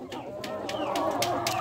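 Chickens cluck in short repeated bursts close by, several birds overlapping with a steady farmyard murmur underneath.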